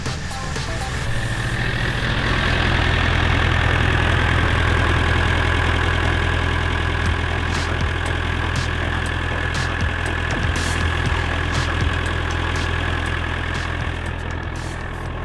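A loud, steady diesel engine of a JCB digger idling close by, with a repaired exhaust, a constant low rumble with a slight knocking rhythm and no voices.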